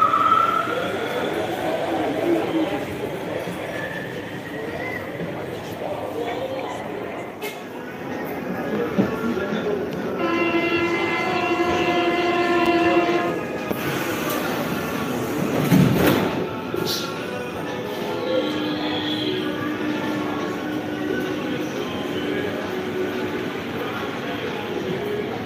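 Lille metro train arriving and running through a station, a long rumbling roll with thumps and clatter, a rising whine and a loud rush at the midpoint, and people talking now and then.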